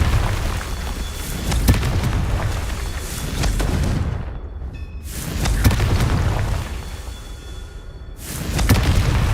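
Repeated heavy booms of a Confringo blasting curse in Hogwarts Legacy, several loud explosive bursts roughly every few seconds with brief gaps of near quiet between them, close and dominant.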